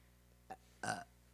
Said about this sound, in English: I just keep burping this Tight Head Brewery beer